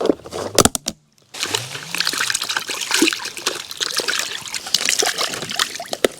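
Dishes being washed in a creek in the Australian bush, with running water trickling and sloshing, a few clinks and splashes up close, and a brief pause before the steady splashing resumes.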